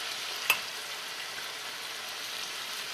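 Cod simmers in a thyme tomato sauce in a pan, giving a steady soft sizzle and bubbling hiss with one brief sharp clink near the start and no voices.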